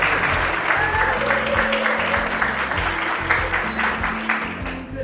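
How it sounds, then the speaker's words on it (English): A graduation ceremony audience breaks into steady applause, many hands clapping together for several seconds at close range, with a faint murmur of the crowd beneath and a brief voice near the end. "please give a round of applause"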